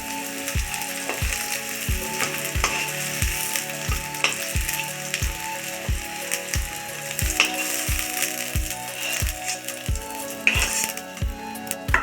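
Potato pieces frying in a little oil in a kadai for egg curry, giving a continuous close sizzle with a steady run of regular clicking ticks throughout and no voices.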